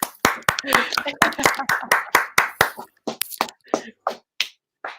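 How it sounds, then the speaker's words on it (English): A small group claps in sharp, uneven bursts, the claps thinning out and slowing toward the end. "I feel like we should clap a little bit longer, actually."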